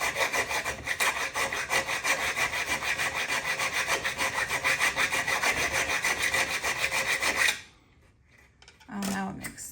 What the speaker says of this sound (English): we're just going to cope with our chainsaw file based on that